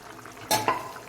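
Golden-fried boiled eggs dropped into a simmering vegetable curry, two quick wet plops and a stir against the pan over a faint bubbling background, short and with no talk.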